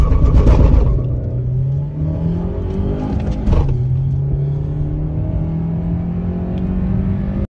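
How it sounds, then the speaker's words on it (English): A 2022 Hyundai Creta petrol car accelerates hard from a standstill with AC on and two aboard, engine note rising steadily, a brief dip at a gear change, then climbing again loud and close with no talk. "Creta 2022 petrol 0 to 80 and 0 to 120 with AC and 2 people."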